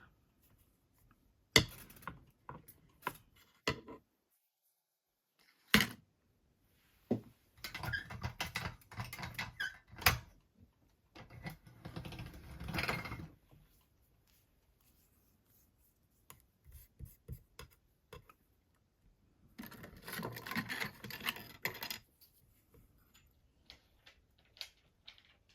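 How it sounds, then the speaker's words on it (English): Polymer clay being fed through a hand-cranked pasta machine on its thinnest setting, heard as close, intermittent bursts of clicking, ticking cranking with quiet pauses between passes. "I think I'm going to put it through my pasta machine"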